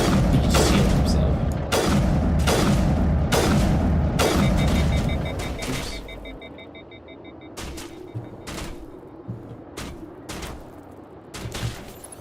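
Rapid, booming gunfire in Mass Effect Legendary Edition on Noveria crackles in loud bursts, then thins into scattered single shots and distant pops, with faint electronic tones in between.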